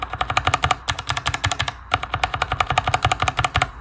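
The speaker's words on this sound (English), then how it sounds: "linear switch, tactile switch, how the switches sound on the board, tactile" Rapid typing on a Kinesis TKO 60% mechanical keyboard with tactile switches, a dense run of crisp keystrokes broken by a brief pause, close and fairly loud.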